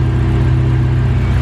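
Honda K24 engine idling smoothly on pump gas in a sedan, a loud, steady low rumble with an even pulsing beat and no revving, heard alone.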